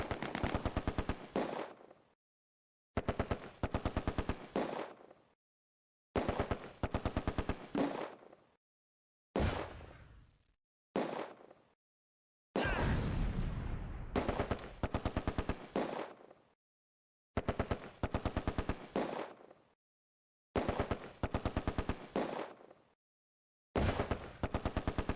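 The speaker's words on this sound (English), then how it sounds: "the Vickers keeps up suppressing fire against an enemy MG42 squad on the other side of the bridge" A Vickers machine gun lays down suppressing fire in the Close Combat World War II game, loud close bursts of rapid automatic shots, each lasting a second or two, separated by short silent pauses, eight or so bursts in a row.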